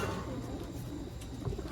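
Racing pigeon cooing softly amid a steady murmur of other birds and background noise, a low continuous throaty coo with one brief louder note near the end.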